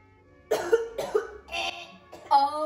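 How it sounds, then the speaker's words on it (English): Cigarette smoker coughing hard, four or five close, harsh bursts in quick succession after a quiet start, alone without talk. "I'm coughing because of this stupid cigarette."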